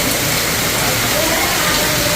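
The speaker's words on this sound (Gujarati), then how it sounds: "બહુ અટાણ વરસાદ તો બહુ હોય છે" Heavy rain falls steadily across a village, a dense, continuous hiss of drops drumming on surfaces close by, loud and unbroken throughout.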